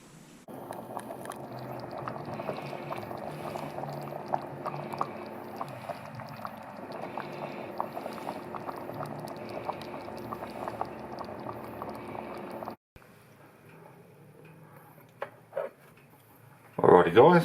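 Hungarian creamy mushroom soup simmering in a pot, a steady close bubbling and popping for about twelve seconds, then the bubbling drops away to a faint hiss before a few brief clatters and a louder handling noise at the end.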